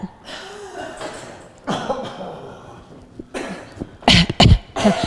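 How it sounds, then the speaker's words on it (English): Several coughs spaced apart, a few soft and breathy and then a sharp, loud burst of harsh coughing near the end. "bend the knees and cough"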